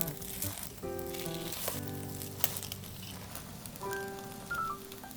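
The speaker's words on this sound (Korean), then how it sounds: "프라이팬에 기름을 두르고 소세지를 중간 불에서 붙여주세요" Egg-coated sausages fry in an oiled pan over medium heat, giving a soft, continuous close sizzle with light crackles under steady background music.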